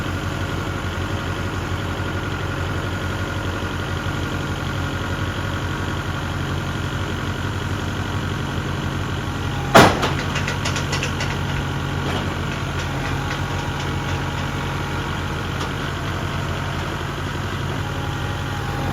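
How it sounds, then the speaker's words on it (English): A small tractor engine idles steadily while lifting a heavy load, a constant low rumble with one sharp knock partway through. "A lot of weight for the little tractor, so he has to be really careful."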